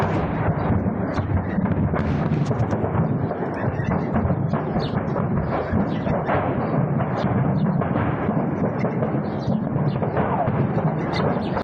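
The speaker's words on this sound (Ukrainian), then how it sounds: "Вибухали як артилерійські снаряди, так і ракети." An ammunition depot burns with artillery shells and rockets detonating, a continuous dense crackling and rumbling of rapid bursts and booms at steady loudness, heard from a distance and mixed with faint voices.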